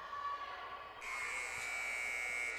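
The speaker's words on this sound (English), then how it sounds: "Shot is up and no good by Jessica McCoy as she tries to beat the buzzer" A basketball game buzzer sounds in a gymnasium, a sustained electronic tone that starts partway through and holds steadily to the end over faint room noise.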